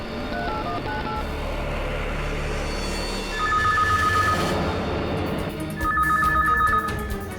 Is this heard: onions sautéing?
no